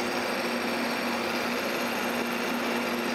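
A tool post grinder mounted on a lathe runs continuously with the chuck turning at low speed, a loud, steady high-pitched whine and motor hum filling the whole stretch with no talking.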